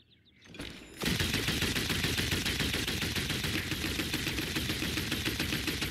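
Vivian, a damage-role champion in a video game, fires rapid bursts of bullets, a dense, loud, continuous rattle of gunfire that kicks in after a brief quieter lead-in and keeps going without pause.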